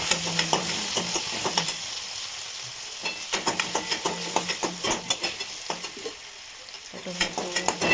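Tomatoes cook down in hot oil with cumin and mustard seeds, a continuous sizzle under brisk, rhythmic stirring strokes that scrape and tap the pan in quick runs, close and prominent.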